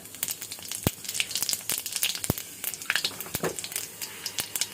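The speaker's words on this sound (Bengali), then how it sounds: "কড়াই গরম হয়ে গেছে এখন আমি কটা পাঁচফোড়ন দেব ফোড়নে" Panch phoron spices crackle and sizzle in hot oil in a wok, a dense, steady frying hiss studded with many sharp pops, fairly close and without talk.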